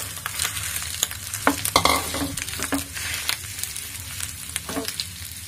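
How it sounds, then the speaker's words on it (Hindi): Crushed green chilli and ginger being lightly fried in a pan, with a loud frying hiss broken by repeated scrapes and clacks of a stirring spoon in an uneven rhythm. "हरी मिर्च और अदरक को अच्छा सा कूट के रख लिए थे, उसको हम इसमें डाल देते हैं। इसको थोड़ा सा हल्का सा भून लेते हैं।"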